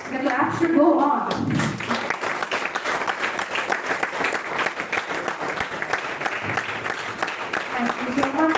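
Audience applause at a national-level oratory contest inauguration ceremony: sustained clapping that fills most of the clip, preceded by a brief spoken voice at the start.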